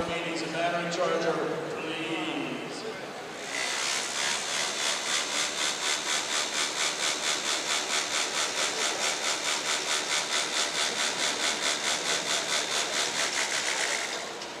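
Robot wheels spin up to about 5,000 RPM, a steady, pulsing whir with a fast regular flutter that starts suddenly and holds loud and close. Voices are heard briefly at the start.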